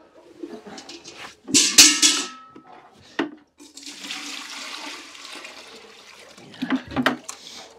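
Warm water poured down a feeding tube into a cow on a homestead gurgles and splashes in a few uneven bursts, with quieter gaps and a long soft rushing stretch between them, close and without talk.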